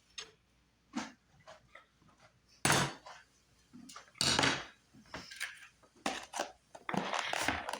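A knife chops food on a cutting board with irregular, close knocks and taps of wood, some in quick bursts and others spaced out, with light clatter between them.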